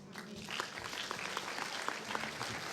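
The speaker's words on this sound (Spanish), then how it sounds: "Fuerte, familia, ese aplauso al Rey de Reyes" A congregation applauding during a Spanish-language church service, fairly faint scattered clapping that continues steadily, with some voices mixed in underneath.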